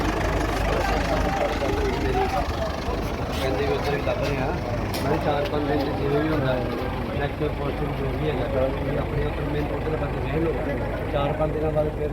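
An engine idles steadily throughout, a constant low rumble with voices mixed in over it.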